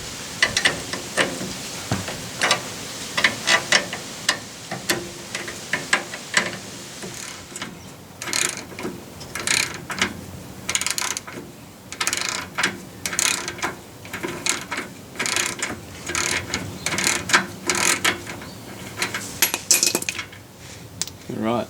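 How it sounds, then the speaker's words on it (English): A ratchet clicks steadily while loosening a 780 nut on a vehicle's tie rod end, with bursts of rapid metallic pawl clicks and clanks of tools, close and loud, with no voices. "Just loosen off this 780 so we can wind it out."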